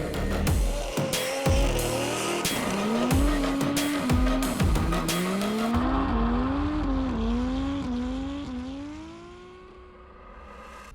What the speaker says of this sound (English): Drift racing looks very chaotic from the outside. It's loud, it's spectacular, there's smoke, there are 2 cars